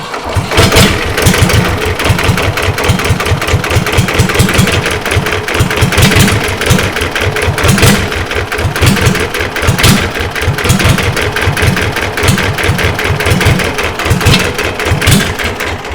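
An air-cooled Deutz diesel engine, started after sitting for years, chugs loudly up close in a fast, steady knocking rhythm as it settles into an idle.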